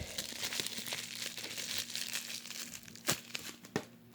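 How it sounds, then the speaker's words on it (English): Packing tape on a cardboard delivery box is cut and pulled apart with a continuous crinkling, tearing rustle, close and moderately loud, ending in two sharper snaps as the tape gives way. No one speaks. "I'm just gonna cut the tape."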